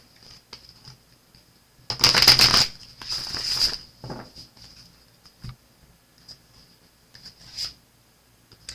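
Two bursts of riffling tarot cards, about a second each, followed by a few soft taps and shuffles, fairly close in a quiet room.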